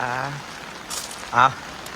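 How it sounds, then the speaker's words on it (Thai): Steady rain falls as a soft, even hiss through the whole moment, with a person talking briefly over it at the start and again near the middle. "ฝนตกจ้าพี่น้องจ๋า"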